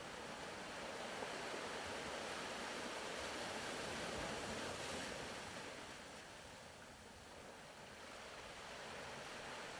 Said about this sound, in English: With every inhale you take, the waves rise, and with every exhale, they fall.